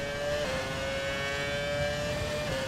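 A steady, high-pitched Formula 1 car engine in the F1 2020 video game whines at constant speed, a single sustained tone with a slight pitch dip, loud and close.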